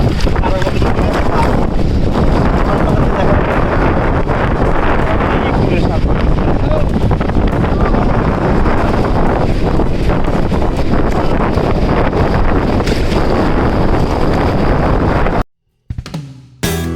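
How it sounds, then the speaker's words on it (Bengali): Strong sea wind on Guliakhali Sea Beach in Chittagong blows hard and steady into the microphone with surf rumbling beneath, continuous and loud before cutting out near the end. "এখানে সাগরের পরে প্রচুর পরিমাণে বাতাস"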